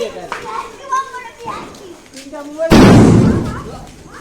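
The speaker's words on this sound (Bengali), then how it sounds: "বন্ধুরা একটা বম ফাড়াবো, হাই বড় বম, হাই বড়।" A big firecracker bomb goes off at a Mahalaya fireworks celebration with a single loud, close blast that fades out. Before it, children chatter and call out.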